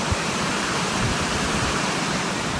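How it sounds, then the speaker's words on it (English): Water pouring over a farm pond spillway after heavy rain, a loud, steady rushing roar close by with no other sounds. "Now we're looking at the spillway."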